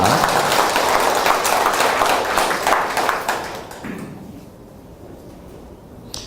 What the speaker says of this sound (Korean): 여러분 스스로에서 박수 한번 치도록 하겠습니다